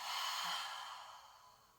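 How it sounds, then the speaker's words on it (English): A single long cleansing exhale during a hatha yoga flow, a breathy whoosh that starts strong and slowly fades over nearly two seconds, close and alone. "One more big inhale here. Cleansing breath out."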